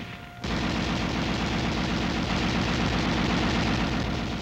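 A 7.62mm M73 tank machine gun, a lightweight, air-cooled, recoil-operated coaxial weapon, opens up after a short quiet moment and keeps firing in one loud, continuous automatic burst of rapid rattling shots.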